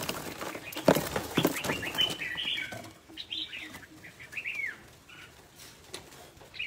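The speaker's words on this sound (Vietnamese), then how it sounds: "Chim về 200 con." A flock of about 200 birds arrives with a flurry of wing flaps up close, followed by scattered chirps and calls as the flapping settles into quieter bird sounds.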